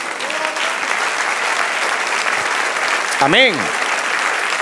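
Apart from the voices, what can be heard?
church congregation applause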